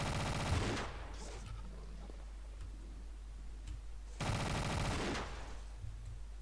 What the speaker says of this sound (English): this is the machine gun